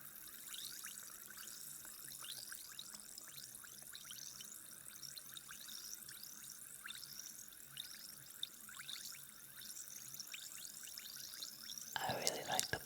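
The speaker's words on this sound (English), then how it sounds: "I really like the bubbling noises." ASMR bubbling water: a steady stream of small, rapid rising bloops and drips, soft and close, continuing throughout with a brief louder splash near the end.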